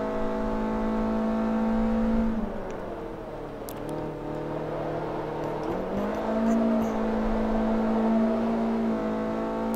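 Toyota Yaris race car in Forza Motorsport 3 holds a loud, steady engine drone, dipping in pitch around the middle as it shifts down and then climbing again, with no talk over it.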